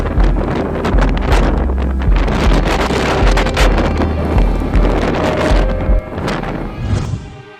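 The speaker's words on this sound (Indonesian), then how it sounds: "Sand Devil sendiri adalah angin puyuh kecil dan singkat yang paling sering terjadi pada sore hari ketika permukaan tanah memanas dengan cepat." A sand devil, a small short-lived whirlwind, roars as strong gusty wind buffeting the microphone, loud and continuous with low rumbling surges that ease off toward the end.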